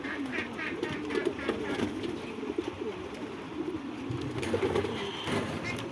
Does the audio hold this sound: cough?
no